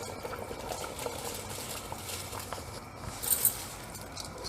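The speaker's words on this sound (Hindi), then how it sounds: "पानी बॉयल होना शुरू हो गया" Mutton yakhni stock coming to a boil in a cooking pot for pulao, a steady low bubbling and simmering patter with faint clinks, no talk.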